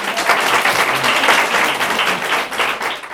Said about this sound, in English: let's give them a very huge round of applause.